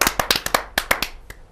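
A small audience at a Hindi poetry gathering claps sharply, a dozen or so crisp, slightly uneven hand claps in quick succession that thin out and stop.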